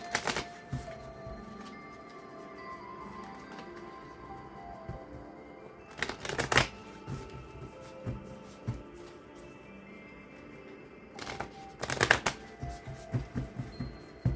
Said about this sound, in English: I'm gonna shuffle this way because these cards get a little sloppy.